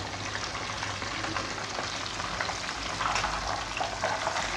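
Chargha chicken fries in very hot oil with a dense, loud, bubbling sizzle close by, steady with small spatters and a slight swell toward the end.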